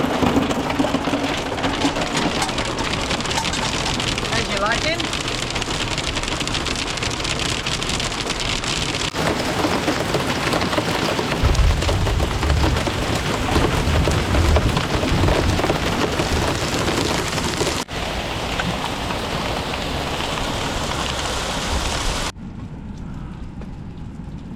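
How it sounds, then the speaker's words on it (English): Heavy rain and hail pour steadily on a hard surface, with low rumbles of thunder rolling underneath; a voice briefly speaks before the downpour quiets near the end. "Now I don't like the hail. I want the hail to go away. Rain's fine,"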